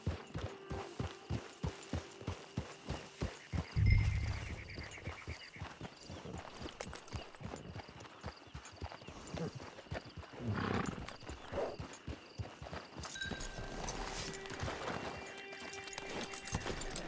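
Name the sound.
horse hooves in Red Dead video game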